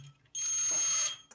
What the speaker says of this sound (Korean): 터치 센서를 터치하게 되면 LED에도 불이 들어오고 부저에서도 소리가 나죠